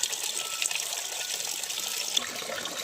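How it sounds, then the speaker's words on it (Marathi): Water runs steadily into an irrigation channel in a field set up to water cattle, making a continuous close hiss with light trickling and splashing. "इथं मी लावले पाटीत पाणी गोरांना पाणी द्यायला"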